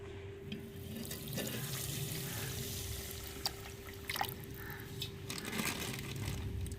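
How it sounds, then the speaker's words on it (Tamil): Dissolved tamarind mixed with masala poured into a pan for onion kuzhambu, a steady liquid pouring wash with faint scattered clinks, close and continuous with no talk. "மசாலையோடய கரைச்ச புளியும் சேர்த்துக்கிறோங்க."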